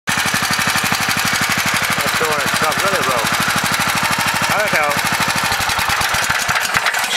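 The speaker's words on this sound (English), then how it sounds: "this thing's actually idling very nicely now. Runs all smoothly after I clean that carby." A Holden Commodore VN engine idles smoothly after a carburettor clean, a loud, steady, rapid rhythmic putter close by, with someone talking over it.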